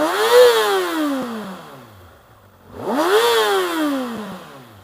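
A stock-exhaust 2019 Kawasaki ZX-6R sport motorcycle, parked in neutral, is revved twice in succession, each rev rising sharply to a high snarling pitch and then falling back toward idle, loud and close.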